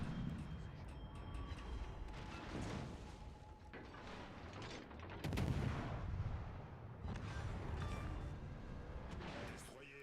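In World of Warships: Legends, the Kleber's turret guns fire in heavy booming salvos that roll under game noise and mechanical hum, with a big blast midway and a voice talking over parts of it.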